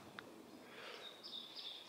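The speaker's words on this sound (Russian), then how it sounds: "Птички поют." Birds sing faintly in a forest, thin high chirps and a brief whistled phrase rising over quiet woodland ambience in the second half.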